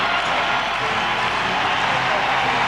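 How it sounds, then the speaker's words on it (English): A basketball arena crowd at the SBC Center in San Antonio during a Spurs playoff game roars and applauds in a steady, loud, sustained wash of cheering and clapping. "This crowd on its feet"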